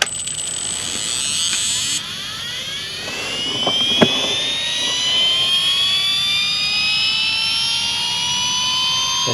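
The flywheel of a Losi Promoto RC dirt bike spinning up: a loud, close electric whine rising steadily in pitch over several seconds, with a click partway through.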